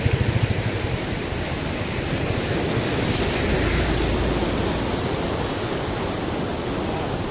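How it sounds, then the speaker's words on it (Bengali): Water rushing steadily near a field by a tea garden, a loud, dense and unbroken roar like a stream or small fall that lasts throughout with no talking. "কি সাউন্ড জলে।"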